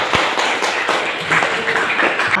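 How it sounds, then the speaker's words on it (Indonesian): An Islamic studies class in an Indonesian classroom claps hands together, a brief burst of dense, scattered clapping from a group of students at close range, with no talk over it. "Oke, tepuk tangan dulu untuk semuanya."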